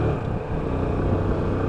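A brand-new Lexmoto ZSB 125cc motorcycle pulls through its gears at low revs, giving a steady, muffled engine drone mixed with wind rush across the microphone.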